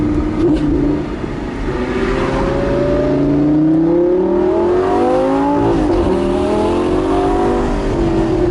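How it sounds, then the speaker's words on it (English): A supercar in sport mode accelerates hard, its loud engine note climbing steadily in pitch and dropping back between upshifts, close and continuous with no talking. "So back in sport mode. Still get a lot of the noise without the exceptionally violent upshifts."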